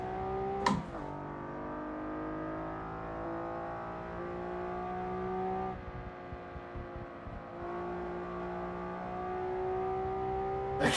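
Honda NSX engine in the Shutoko Revival Project racing game, a sustained high-revving wail climbing steadily through the gears, with a brief drop at a shift before it rises again, loud and close.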